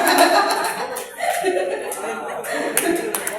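A group performs a rhythmic patterned clap at the close of a training session, several bursts of hand claps mixed with chuckles and murmuring voices.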